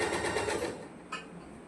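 A sewing machine stitching a churidar runs in a fast, steady whirr for under a second, then stops, with a brief mechanical click afterward, close and clear.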